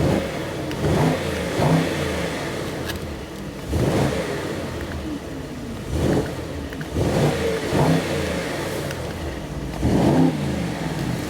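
Mercedes SL 55 engine in Sport mode revving in repeated loud bursts roughly every two seconds, each swelling and falling back to a steady idle between, with no talking.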